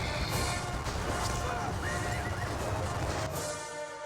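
Cavalry horses in the John Tiller Napoleonic Series battle game at Talavera, whinnying and neighing over a dense rumble of hooves and battle noise, loud and steady throughout.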